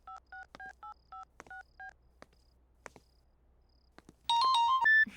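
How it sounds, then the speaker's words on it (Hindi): A telephone is dialed to make a call: a quick run of eight evenly spaced keypad tones, a few faint clicks, then a louder ringback tone chiming at the end. "सिमरन को फोन करता हूँ।"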